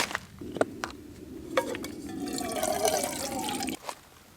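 Water pours for a backpacking meal at a forest campsite, a close gurgling stream lasting a couple of seconds among light clinks of a pot or pouch, then stopping.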